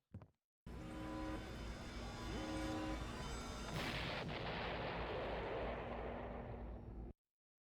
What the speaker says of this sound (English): It's a very cartoonish explosion sound effects.